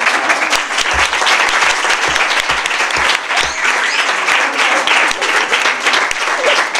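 An audience at a sports complex applauds a Paralympic world swimming champion, with sustained loud clapping and a few sharper individual claps standing out throughout.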